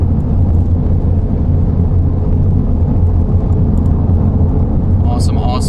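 Steady, loud low-frequency road rumble and engine drone fill the cabin of a car driving through Tornado Alley during storm chasing, continuous throughout with a brief higher chirp near the end.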